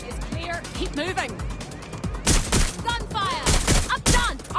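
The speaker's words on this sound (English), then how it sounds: "Gunfire!" Rapid bursts of gunfire from the video game Watch Dogs Legion, loud sharp volleys clustering in the second half, mixed with shouting voices and game dialogue throughout.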